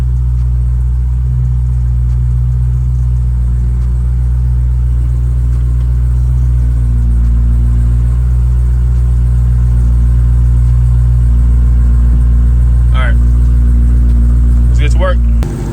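A steady, loud low engine rumble from an AWD Chrysler 300 idling and creeping into a parking spot, the deep drone holding evenly throughout with a few faint higher chirps near the end.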